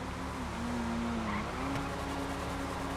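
Car tires squeal and skid in a GTA FiveM online race, a sustained near screech sliding in pitch over a steady engine roar, with a brief impact knock near the middle; no one talks.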